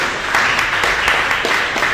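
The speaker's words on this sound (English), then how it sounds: "Can we have a big round of applause for Ms." Crowd applause fills a lecture hall as an audience welcomes a design critic, editor and author to the stage, a dense steady wash of many hands clapping at close range with no voices above it.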